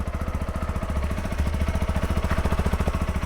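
A SYM NH-T 200 motorcycle with a 200cc engine idles steadily just after ignition, a close, even pulsing throb with a fast regular rhythm that holds throughout.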